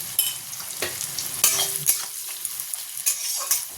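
Onions with a little salt frying in a pan, a soft steady sizzle broken by scraping stirs and light clinks of a spoon, close and fairly quiet, no talking.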